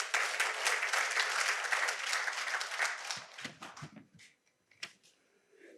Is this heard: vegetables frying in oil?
no